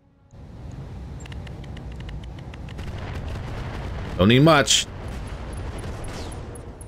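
LRM missile explosions in the Battletech Roguetech mod hit as a loud, brief cluster of rumbling blasts over continuous game background noise, while someone speaks briefly.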